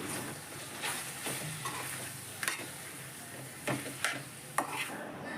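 Chicken pieces being mixed with chilli powder and biryani masala by a ladle in a pot for Sunday chicken fry piece biryani: soft scraping stirs and a few sharp clicks of metal against the pan over a faint sizzle.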